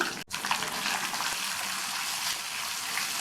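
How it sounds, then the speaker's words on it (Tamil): Small shallots and garlic cloves frying in oil in a pan for South Indian vatha kuzhambu. A dense, continuous sizzle runs close up after a brief dip at the start. "இது ரெண்டையும் சேர்த்துட்டு நல்லா வதக்கி விட்டுக்கணும்."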